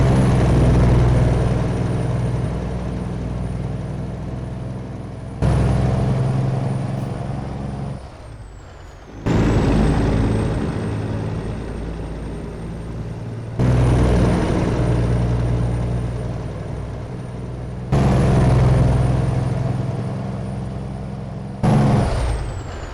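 In American Truck Simulator, a Freightliner Argosy truck engine drones and strains under load climbing a hill, its pitch rising and dropping in repeated cycles.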